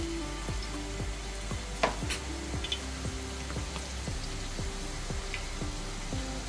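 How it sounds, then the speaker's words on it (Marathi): Garlic sizzling in hot oil in a tawa pan, a steady close crackling fry with faint regular ticking taps, no voices over it. "तर आता तव्यात तेल टाकलेलं आहे, त्यामध्ये थोडासा लसूण टाकायचा आहे"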